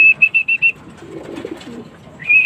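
Pigeons outside a backyard loft: a quick series of five bright, even chirping notes, then soft low cooing and rustling, and a longer high note rising at the end.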